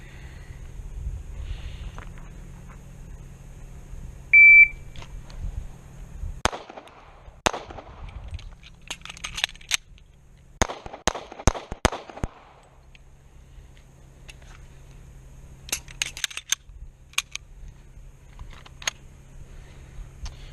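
Pistol shots fired during a FAST drill with a paddle holster and a reload, sharp cracks in quick pairs and clusters separated by pauses, over a low steady hum.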